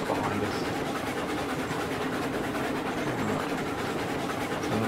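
Freight train in the railway game Railroads Online rolling steadily along the rails near a sawmill, a continuous broadband rumble and rattle of wagons with no break or talk.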